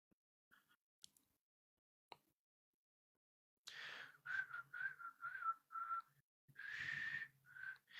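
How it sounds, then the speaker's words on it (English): After a few faint clicks and a pause, someone whistles a song in short, breathy phrases, close and fairly quiet. "I don't know if you can tell by my poor whistling."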